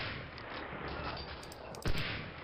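Gunfire in the World War II shooter Medal of Honor: Allied Assault, a dense run of shots and blasts over steady battle noise, with one louder, closer report near the end.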